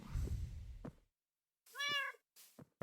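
A cat meows in Minecraft, sounding twice with a clear harmonic cry, the first longer and louder, after a stretch of low game noise and a brief silence.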